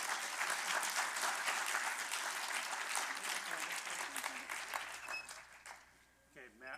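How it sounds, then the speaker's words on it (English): An audience applauds astronaut Wheelock at a SpaceApps Cleveland event, steady sustained clapping from a crowd that tapers off, followed briefly by a voice. "a round of applause for astronaut Wheelock"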